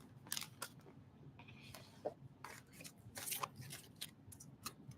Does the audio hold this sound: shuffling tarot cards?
yes